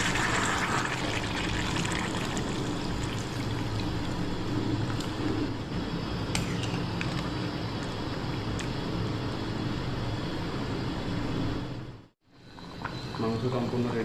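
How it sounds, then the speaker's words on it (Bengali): Water poured into a pot of cooking meat and potatoes, a steady, loud rushing and splashing that runs almost without break, then briefly cuts out near the end. "এবারে এটাতে জল দেবো।"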